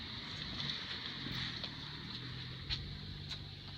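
Steady wind gusting against an Airstream trailer awning outdoors, a continuous breathy rush with light flapping bursts, close to the microphone and without talk.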